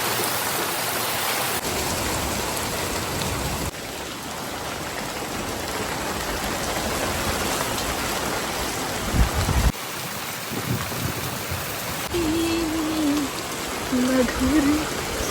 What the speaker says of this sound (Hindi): बारिश बढ़ती ही जा रही थी।